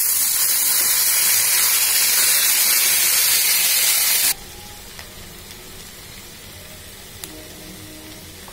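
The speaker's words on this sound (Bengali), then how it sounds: "এখন সবজি বাগার দিয়ে নিব।" Boiled vegetables tempered (bagar) in a hot pan give a loud, dense sizzle and hiss. After about four seconds it drops sharply to a quieter steady simmer with faint crackles, and no one speaks.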